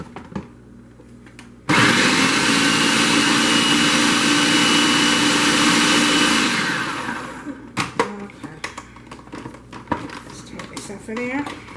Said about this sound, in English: I'm gonna put them in the blender with a food processor and blend them up.